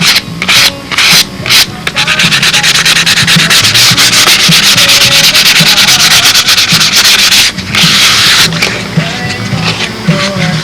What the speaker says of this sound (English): whatever gap is still left here, just lightly sand it, let the dust fill in the gap